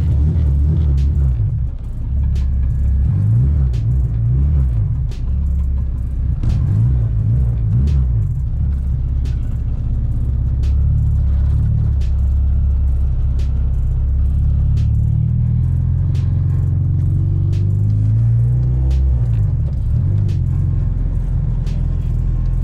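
An old hatchback with no power steering drives along, its engine giving a loud, steady low rumble that swells slightly at times, close and continuous with no talk.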